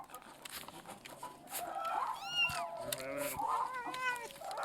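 A cat meows in the medieval-styled video game Pentiment, several short rising calls close and fairly clear over a low ambient game backdrop.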